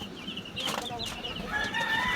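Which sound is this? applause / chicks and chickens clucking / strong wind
chicks and chickens clucking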